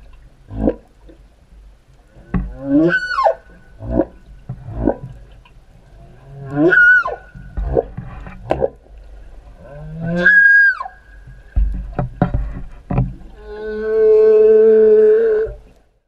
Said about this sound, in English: 80-foot-long fin whales, second only in size to the blue whale, can make low-frequency moaning sounds